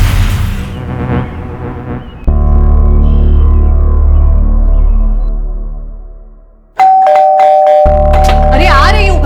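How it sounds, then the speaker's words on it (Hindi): A doorbell chimes loudly up close, its tones ringing out and fading, then rings again sharply; a voice briefly speaks near the end. "क्यों इतनी घंटी मार रहे हो?"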